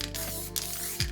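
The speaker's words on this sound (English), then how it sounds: "Again, using the white acrylic spray paint," White acrylic spray paint hisses from a can in a short, close burst, with a faint click near the end over a quiet background hum.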